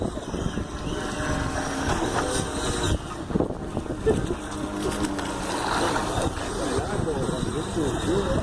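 A boat engine rumbles steadily while the boat is underway on the water, a close mechanical chugging with rattly, ratchet-like texture, and someone talks over it throughout.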